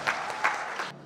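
An audience at the Saptarangi Pratibhako Khoji talent-search final claps for a singer in a short, lively burst with a few swelling peaks before it cuts off.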